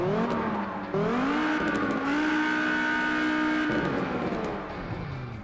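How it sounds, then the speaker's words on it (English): A Dodge Viper engine in a driving video game revs steadily with a high, strained whine, rising and holding in pitch, dropping briefly between gear-like shifts. "I think the Dodge Viper would sound pretty meaty."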